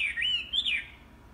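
A hwamei, the Chinese nightingale, sings a clear, bright sliding whistle that rises and falls in a single phrase, close and alone over a quiet background.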